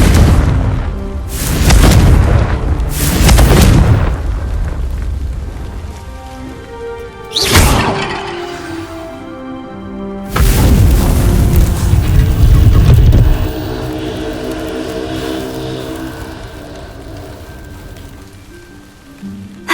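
Confringo fire spell blasting in the Hogwarts Legacy video game, a series of loud booming explosions with rumbling, crackling tails and echoing decay, spread across the scene.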